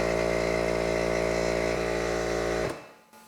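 A 1.5 horsepower air compressor powered by a Bluetti AC200L battery power station runs with a loud, steady motor drone for a few seconds, then abruptly shuts off into near silence.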